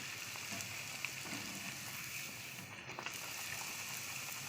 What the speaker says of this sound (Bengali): আমি একে একে আমি কিন্তু সমস্ত লুচিগুলো ভাজা করে নিচ্ছি